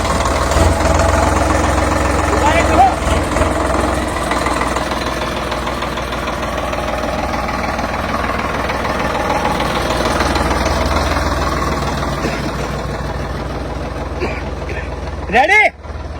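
Tractor engine running at a steady idle during a village challenge contest, a continuous low knocking drone heard close, with a brief mechanical whine near the end.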